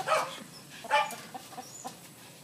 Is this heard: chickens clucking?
yes